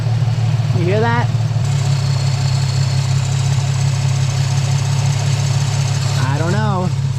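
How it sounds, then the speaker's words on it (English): Steady engine hum from a Nissan 350z HR with a possible AC compressor noise, a constant low drone under the bay with brief speech bursts at the start and end. "Sounds like compressor or something."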